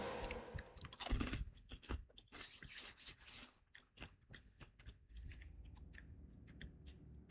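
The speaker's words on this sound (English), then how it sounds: "I'll finish reading after I'm done chewing." Close, crunchy chewing of Cheetos cheese snacks, steady bites and mastication filling the quiet with no talking, loud and intimate near the mouth.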